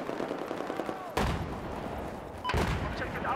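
Light machine gun fire in the video game Battlefield 4, two sharp loud bursts of gunfire cutting through ongoing battle noise, spaced about a second apart, with faint voices in the background.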